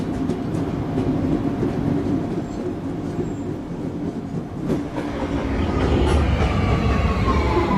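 An R262 subway train from a video game runs steadily, with a loud, continuous rumble of wheels and motors throughout and a brief clatter partway through, growing slightly louder toward the end.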